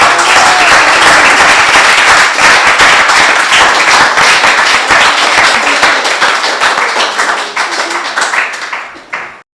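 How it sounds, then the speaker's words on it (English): Loud, dense applause from an audience honoring Coleman Stevenson at a Portland art and architecture talk, sustained clapping that stays full for most of the stretch before thinning and stopping at the end. "Let's have another round of applause for Coleman."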